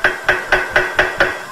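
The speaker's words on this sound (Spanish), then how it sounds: "vamos a necesitar un martillo y un clavito" A hammer taps a small nail to mark a drilling point for a dining-room lamp, giving six sharp, evenly spaced metallic knocks close by with no talking.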